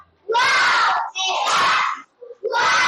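Children in a classroom give group 3 a 'tepuk hebat' clap chant: loud, close bursts of rhythmic clapping mixed with excited young voices shouting, stopping briefly and starting again.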